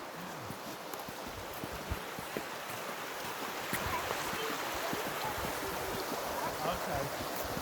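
A river in the Brecon Beacons, Wales, rushes steadily with broadband water noise that swells slightly midway, close and continuous, with no talk over it.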